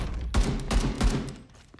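Gunfire in the shooter video game Homefront: The Revolution, with three loud, sharp shots in quick succession, each a booming burst that trails off into echoing reverb.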